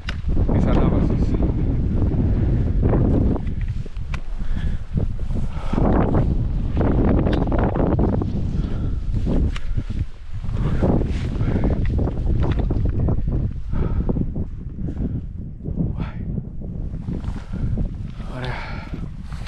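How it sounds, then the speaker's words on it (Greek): Loud, gusty wind on a mountain in the Agrafa range, Greece, roars and buffets the microphone without letup, with a voice speaking faintly beneath the rushing noise. "Τι αέρας είναι αυτός."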